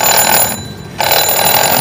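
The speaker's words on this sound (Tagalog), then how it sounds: "So halimbawa i-alarm natin ano" A table alarm clock rings with a loud, continuous bright tone that breaks briefly in the middle and then resumes, heard close up with no talking.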